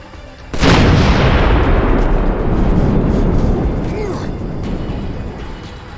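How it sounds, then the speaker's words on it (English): Barrels blow up by a bridge in Dead Island: Riptide, a sudden loud blast that then rumbles and slowly decays over several seconds, with no talk. "I heard the explosion."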